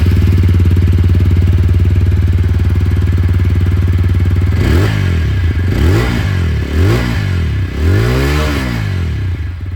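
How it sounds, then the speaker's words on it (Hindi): A 2026 TVS Apache RTR 160 4V mid model, a 160cc motorcycle with a bullpup exhaust, idles steadily and loudly, then gets several sharp throttle blips that rise and fall in quick succession. "चलिए इसकी जो एग्जॉस्ट साउंड है वही मैं आप लोगों को सुना देता हूँ"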